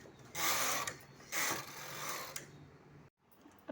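Knitting machine carriage swept back and forth across the needle bed while knitting 20 plain rows for a sweater border, giving repeated loud rasping, clattering passes close by with short pauses between strokes.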